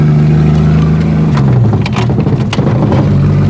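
An old Studebaker that sat forty years in a barn runs while being driven: a loud, close, steady engine drone whose pitch shifts midway as it changes speed.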